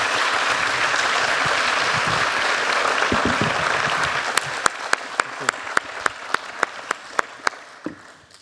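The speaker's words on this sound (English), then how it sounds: "Why don't we give them a big round of applause?" Town hall audience breaks into sustained applause, a dense wash of clapping that thins out toward the end into a dozen or so separate, distinct claps spaced roughly evenly.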